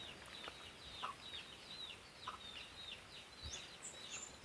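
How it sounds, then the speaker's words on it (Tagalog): A young rooster attempts its first crows in faint, scattered, incomplete calls, with soft clucking from farm fowl against a quiet outdoor background. "Nagsisimula na po siyang tumilaok"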